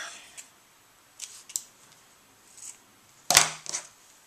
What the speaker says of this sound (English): Crazy scissors